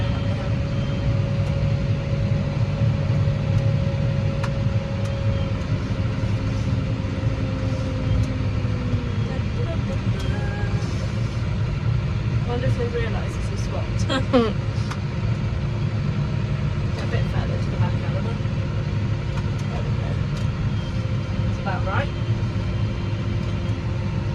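Farm vehicle in four-wheel drive during a British harvest, a steady low engine rumble running throughout with voices talking over it and a few brief clinks and knocks.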